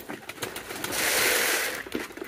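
Pigeons on a farm coo close by, a soft low rolling coo swelling in the middle, with faint rustling and flapping around it and no talk.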